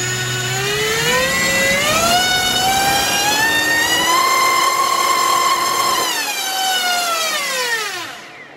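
A drone motor spins on a thrust test stand driven by a generic ESC, a loud steady high-pitched whine that rises in pitch, holds, then spins down at the end, no talking.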